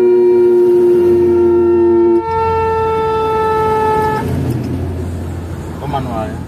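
A Whelen 295SDA1 200-watt dual-tone siren module through an SA314 speaker holds a loud, steady two-tone wail, then drops into lower tones and fades as traffic noise rises.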